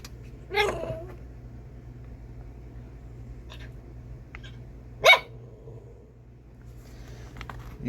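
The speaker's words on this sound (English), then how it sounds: "Alright, I'm gonna let this dog out." A dog gives two sharp barks, one early and one midway, against a low steady background hum in a quiet indoor space.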